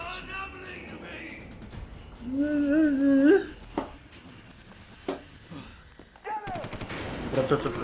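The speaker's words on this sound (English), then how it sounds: "Oh, that's a lot of bullets." Heavy gunfire in the video game Prototype comes as scattered sharp shots and bursts, mixed with wavering voice-like in-game sounds and clutter.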